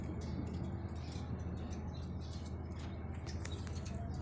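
Five pet birds, kept as two breeding pairs, give faint, high chirps and tweets scattered over a steady low hum, quiet and a little distant, with no talking.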